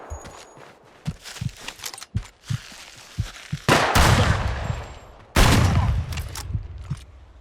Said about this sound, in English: Sawn-off shotgun.